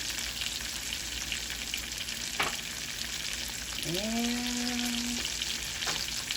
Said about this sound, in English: I'm going to add in my onions.